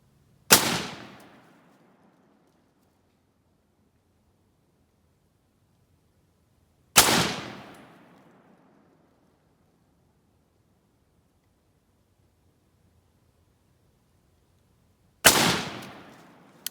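An M1 Garand rifle fires three single shots at a 100-yard target, each a loud, sharp crack with a short decaying echo, spaced several seconds apart and separated by near silence.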